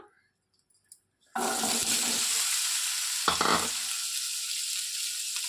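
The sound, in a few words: cucumber pieces frying in a pan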